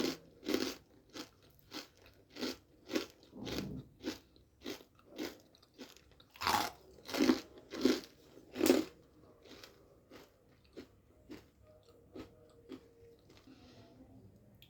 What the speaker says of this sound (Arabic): اسمعي معايا القرمشة